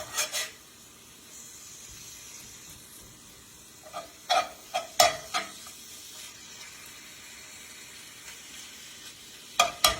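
A very thin ribeye steak fries in olive oil and butter with a soft, continuous low sizzle, broken by a few sharp clicks and scrapes of a utensil against the pan, including a pair near the end.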